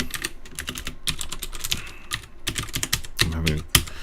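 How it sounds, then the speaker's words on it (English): Rapid, close typing on a computer keyboard, dense irregular key clicks running throughout with a few louder thumps and a brief murmur near the end. "I'm having a lovely time typing tonight."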